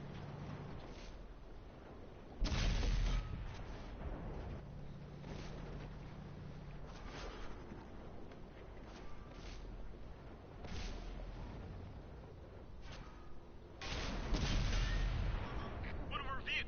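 Tank cannon shots in World of Tanks boom out as heavy, sudden blasts, several spaced across the stretch, over a steady rumbling engine and wind-like background with no clear talk.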